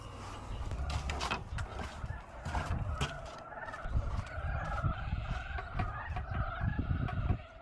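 A large flock of fowl, chickens clucking among turkey-like gobbles, keeps up a dense, continuous chorus of calls at moderate distance throughout, with no talk over it.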